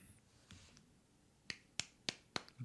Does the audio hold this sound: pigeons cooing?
no